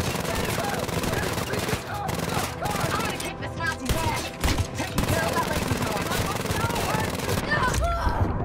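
Rapid automatic gunfire rattles almost continuously in Wolfenstein: Youngblood, dense bursts of shots with battle noise and a voice talking over it.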